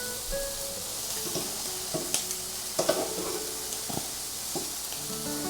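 Shrimp cooking on a smokeless indoor grill, a steady moderate sizzle with occasional scraping and clicking touches of a spatula, alone without talk.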